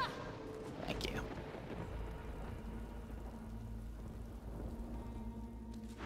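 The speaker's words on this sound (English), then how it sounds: "Can you just cast rain down here" A rain spell cast in the video game Divinity Original Sin 2 brings a steady hiss of falling rain with a low rumbling undertone, a brief sharper burst near the start, then an even downpour.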